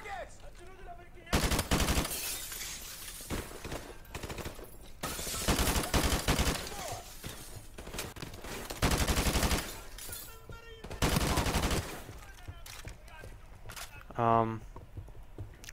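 Repeated bursts of automatic gunfire in a modern military shooter, several loud rapid volleys separated by short pauses, with footsteps and clanking gear sounds between them.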